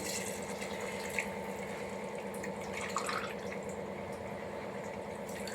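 Water is poured from a glass onto rice in a pot for a chicken dum biryani, making a faint, continuous splashing and trickling flow from start to finish.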